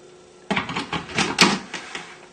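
Chilled celery soup poured into a sieve, giving a run of close, irregular wet splashes and soft clatters that start abruptly and continue in uneven bursts, with no talking.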